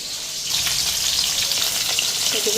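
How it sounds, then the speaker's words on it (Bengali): Fish frying in a pan gives a steady, close hiss of sizzling oil with faint crackles throughout, moderately loud and alone. "মাছগুলি একটি ভাজা হয়েছে উল্টাইয়া দিলাম"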